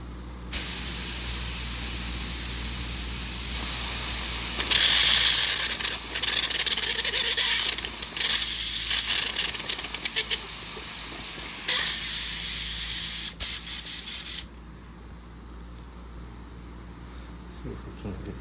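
Paint spray gun spraying, a loud continuous hiss that runs for about fourteen seconds, shifts slightly in tone midway, then cuts off abruptly, with a voice speaking in the background.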